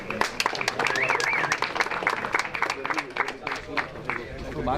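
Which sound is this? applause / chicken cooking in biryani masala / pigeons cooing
applause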